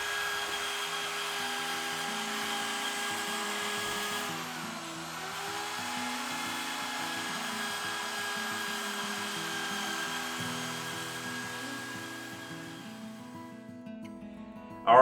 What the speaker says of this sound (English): let's get these outsides sanded